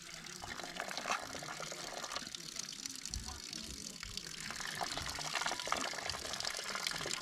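Water from a holy spring at Sinca Veche, Romania, flows and splashes steadily nearby at a low level, a continuous watery rush lasting throughout with faint background voices.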